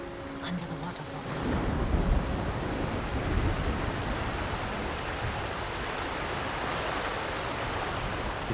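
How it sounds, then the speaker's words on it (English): Waterfall in the video game Ghost of Tsushima, a dense continuous rushing roar of falling water that swells in after a second and stays broad and steady. "Under the waterfall."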